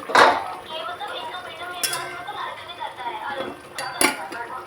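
Fish goes into a pot of boiling Bengali fish curry, with sharp metallic clanks of a utensil against the pot over a steady bubbling hiss.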